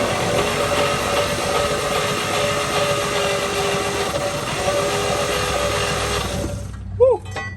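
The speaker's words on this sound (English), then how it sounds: "That is the weakest starter, though." A weak starter turns over the six-cylinder engine of a 1955 Chevy truck that sat for about 30 years, giving a steady, loud, rough churn that runs nearly the whole time and then cuts off abruptly near the end.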